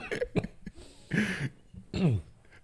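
A person coughs and clears their throat during a podcast, three short rough bursts spaced apart, close and fairly loud.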